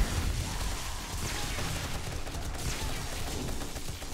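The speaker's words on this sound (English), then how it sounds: "If I'm hearing all the turrets down there." Turrets in 7 Days to Die's Darkness Falls mod fire steadily down in a pit, a continuous distant rattle of rapid shots that stays dense and constant throughout.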